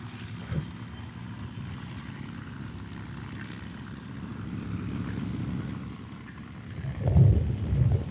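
P-51 Mustang propeller aircraft engine at an airfield, a low throbbing drone that swells gradually and then surges louder near the end, with no voices over it.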